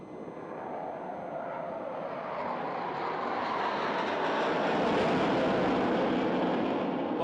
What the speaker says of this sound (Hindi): मिग इस समय अंग्रेजी का 8 आपके समक्ष हवा में बनाता हुआ